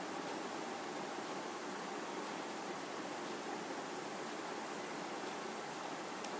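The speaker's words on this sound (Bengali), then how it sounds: "এতে পরিমাণ মতো জল দিতে হবে" Water pours into a pressure cooker of lentils as a steady, soft, broadband rush lasting throughout, fairly faint and unbroken, with no voices.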